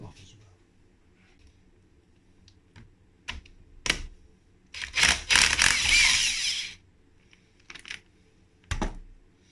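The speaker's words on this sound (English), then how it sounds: "I'll just get that kickstart nut off as well." A kickstart nut being removed from a Yamaha DTR two-stroke motorbike engine during disassembly, with scattered close metallic clicks and taps and a longer burst of rattling tool noise in the middle, no talking.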